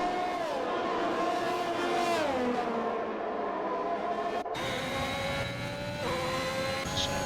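Formula 1 Ferrari race cars in the F1 2021 game at the Spain circuit battle wheel to wheel, a steady high-pitched engine whine rising and falling with gear shifts, loud and continuous with no talk.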